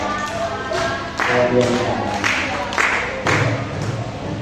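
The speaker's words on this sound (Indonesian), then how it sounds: "Tepuk tangan buat Gracia" Classroom applause for a student named Gracia during an Indonesian grade 8 informatics lesson, a burst of many hands clapping in rough rhythm with a teacher's voice speaking over it.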